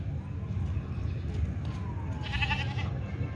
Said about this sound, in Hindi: बिल्कुल एक्टिव बकरा है, खूबसूरत बकरा है